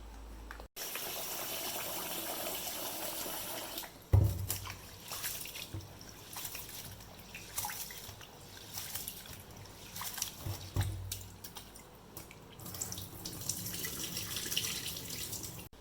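Tap water runs steadily into a sink while rice is washed for idli batter, a continuous close gush with brief interruptions and sloshing as the grains are rinsed.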